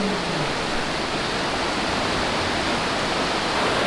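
River rapid heard from a canoe, a dense, continuous roar of rushing whitewater that stays steady and loud throughout, with no voices.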